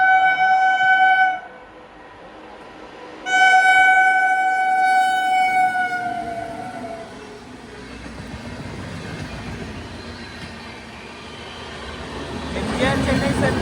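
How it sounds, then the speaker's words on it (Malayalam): The Grand Trunk Express train sounds two loud horn blasts, then rumbles past close by with wheels clattering and a rising roar of passing carriages. "ഇത് ഗ്രാൻഡ് ട്രങ്ക് എക്സ്പ്രസ് ആണ്"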